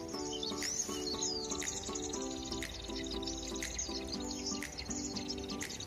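A lumut prinia (perenjak) calls in rapid, repeated chirping phrases, lured outdoors with a recorded birdsong playback, the calls close and steady against a busy background of other bird sounds.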